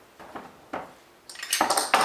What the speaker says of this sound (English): So now I'll put the blender blades on top.